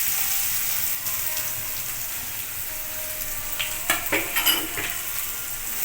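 Chopped onions hit hot oil with crackling cumin seeds in a pan, a steady close sizzle with a few sharper splashes and stirring clatters near the end.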